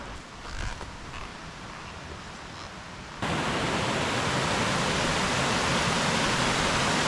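Steady broadband rush of a waterfall along the White Oak Canyon Trail in Shenandoah, constant and fairly close, growing louder and fuller partway through, with no voices.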